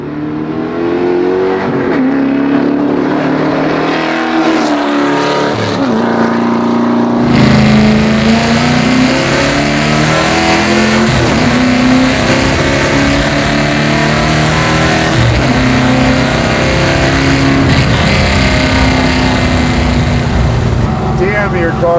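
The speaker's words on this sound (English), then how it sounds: "Damn, your car sounds good." A garage-built 1972 Plymouth Duster NASCAR-style car with an LS engine revs loud and close, its raw, rumbling roar rising and falling repeatedly while people talk over it.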